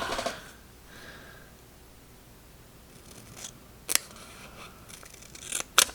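Scissors trim excess paper for a memory-keeping journal, with a few close, crisp snips at the start and a quick cluster of sharp cuts near the end, separated by quiet rustling.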